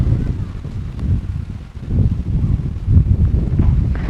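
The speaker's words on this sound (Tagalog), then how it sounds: "mahangin dito mahangin na dito" Low, blustery wind buffeting the microphone, rumbling in gusts throughout with no clear voices.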